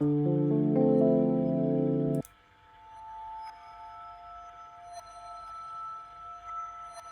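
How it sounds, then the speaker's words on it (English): A reversed bell tone from a Spitfire Audio Labs bells sample swells in with a sustained, rising shimmer and cuts off abruptly after about two seconds, followed by a faint fading tail. "this bell sound, but it's a reversed bell"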